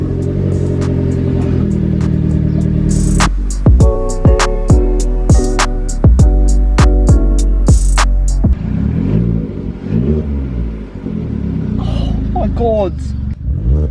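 Vauxhall Corsa 1.2 engine fitted with a new exhaust, revving hard in neutral: a steady idle bursts into a string of sharp, loud rev blips and climbs, then settles back into a rumbling idle up close.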